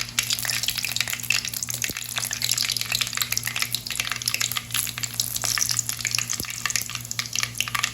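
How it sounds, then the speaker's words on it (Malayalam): Mustard seeds and dried red chillies fry in hot oil for a potato curry, a steady close crackling sizzle with a couple of sharp pops from bursting seeds, no voices. "കടുക് ഒന്ന് പൊട്ടട്ടെ. രണ്ട് വറ്റൽമുളക് ഇട്ട് കൊടുക്കാം."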